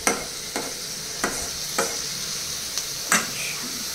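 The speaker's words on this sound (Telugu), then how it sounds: "ఒకసారి సాల్ట్ ఈ 3కి కలిసే దాకా వేసుకొని మిక్స్ చేసుకోవాలన్నమాట" Onions frying with salt in a pan, stirred with a utensil: a steady hiss of sizzling broken by several sharp scraping strokes at uneven intervals, close and alone without voices.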